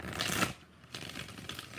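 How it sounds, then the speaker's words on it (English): A deck of tarot cards is shuffled up close in two quick riffling bursts with a short pause between them. "5 shuffles"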